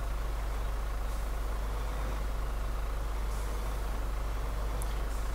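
A steady, low engine drone of an Iveco 190-38 Special truck in the video game Spintires runs throughout, with faint brief hissing bursts of air brake release near the end.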